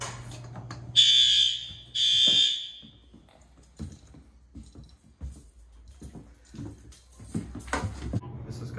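A fire alarm in a school built in 1958 sounds during a test with two loud, harsh electronic blasts of about a second each, followed by quieter shuffling and faint handling noises.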